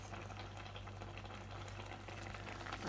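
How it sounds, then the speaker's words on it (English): A pot of grape juice bubbles and simmers steadily at close range, with a soft continuous seething and a low hum underneath. "Slowly boiling up."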